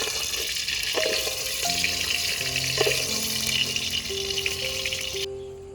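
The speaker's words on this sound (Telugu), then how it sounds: "పచ్చిమిరపకాయలు ఎల్లిపాయలు 2 ఫ్రై చేసి పచ్చిమిరపకాయలు వేసుకున్నాము." Green chillies and garlic fry in hot oil in a pan, a steady hissing sizzle running the whole time, with a few faint clinks and tones from the kitchen.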